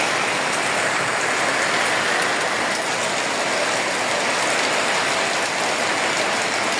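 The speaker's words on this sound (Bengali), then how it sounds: "এতক্ষণ পর্যন্ত প্রচুর বৃষ্টি ছিল" Heavy rain pours down during a windy storm, a loud, dense and unbroken hiss of drops striking surfaces, steady from start to finish with no voices.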